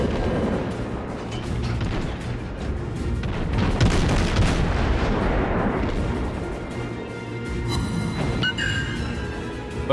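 Naval artillery fire and shell hits in the World of Warships naval combat game, a dense, loud, continuous roar of booming cannon blasts and explosions with no break.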